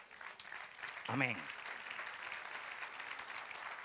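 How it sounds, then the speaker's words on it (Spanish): Steady applause from a church congregation fills the whole clip, with a pastor's voice speaking briefly over it near the start. "Quiero un aplauso al Señor."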